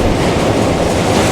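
Rajya Rani train with ICF coaches crossing the Kaveri river bridge near Srirangapatna, a steady, loud rumble of wheels and carriages heard close up from on board, with no voices.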